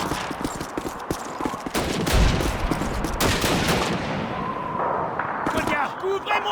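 Rapid machine-gun bursts from an MG42 in the World War II shooter Call of Duty 2, mixed with other gunfire, explosions and shouted battle voices, loud and dense throughout.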